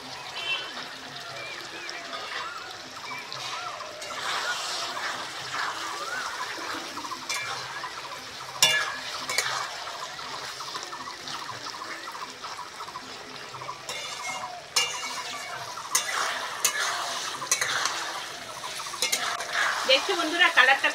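Fried potato pieces stirred into a simmering fish curry masala with oil separating, mixed with a gentle sizzle and intermittent scraping, clattering spoon strokes that grow busier toward the end.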